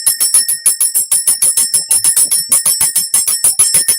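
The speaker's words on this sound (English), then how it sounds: "The bell is for the children" Bright, rapid, repeated ringing of a small metal bell, held close and loud, in an unbroken rhythmic jangle with no talking.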